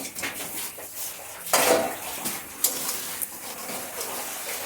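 Fish pieces dropped into a pot of simmering Bengali fish curry, a brief clatter and splash of utensils against the cookware, close and moderately loud, surrounded by soft kitchen clinks and stirring.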